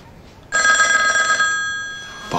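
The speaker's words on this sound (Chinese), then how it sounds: "不好意思，我接个电话啊。" A telephone bell rings loudly in one sustained burst of bright metallic trilling, then fades out, in a quiet indoor room.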